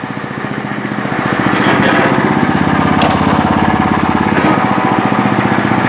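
A walk-behind tractor's engine runs steadily in third gear, a loud, close, rapidly pulsing motor drone that rises in speed in the first seconds and then holds even, with no talking.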